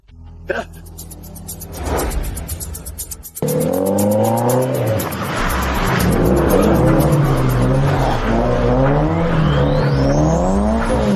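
A stunt race car engine revs and accelerates through a course, rising and falling whine with tire squeal, loud and close, starting after a short quieter stretch.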